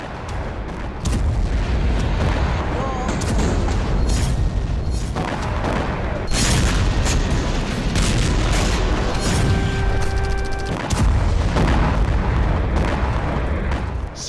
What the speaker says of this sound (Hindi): सीरिया पर इजराइल की बमबारी